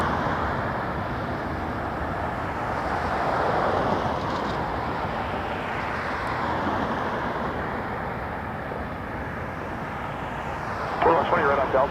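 An aircraft rumbles at Toronto Pearson Airport in the evening, a broad continuous engine roar that swells and fades slightly, with a radio voice breaking in briefly near the end.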